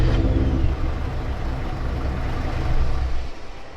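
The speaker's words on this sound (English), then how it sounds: "Again, we'll turn the engine on." A monster truck's big engine turns over and settles into a deep, loud rumbling idle in Farming Simulator 22, heavy low-end drone throughout with a slight swell near the end.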